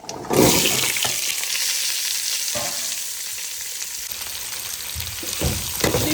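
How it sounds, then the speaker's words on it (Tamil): Chopped vegetables and curry leaves for sambar hit hot oil with a loud burst of sizzling, then fry steadily with a few scraping stirs and a later swell as they are turned. "கொஞ்சம் நேரம் நம்ம காய்கறியை வதக்குறோம்"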